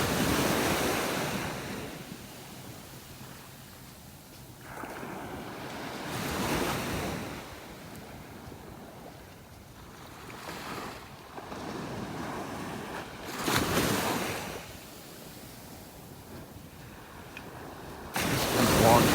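Ocean waves on a beach in North Naples, Florida, with surf washing in and receding in broad swells roughly every few seconds, wind buffeting the microphone throughout, no talking.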